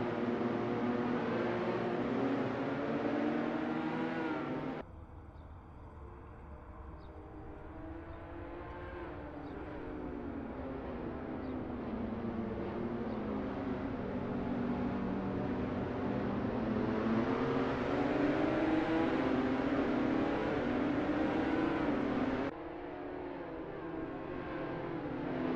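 Lotus Evora GTC race car engines idling and revving on the grid at Zandvoort in Assetto Corsa, a steady droning hum with pitch rising and falling, shifting abruptly twice.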